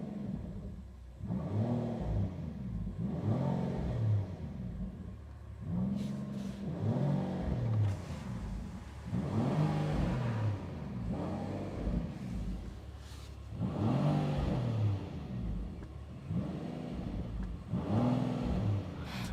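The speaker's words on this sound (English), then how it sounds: "You can already feel the rumble and the roar sound of the exhaust" From inside the cabin of a 2024 Mansory Rolls Royce Cullinan SUV, with the window down, the exhaust revs in about six repeated rising pulses, a deep rumbling roar swelling and falling steadily, with no voices.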